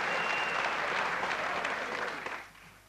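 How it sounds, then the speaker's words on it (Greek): Audience applause at a live Cretan music concert, a dense wash of clapping that holds steady before fading out near the end. "Ένα χειροκρότημα για τα παιδιά αυτά, γιατί αξίζουν."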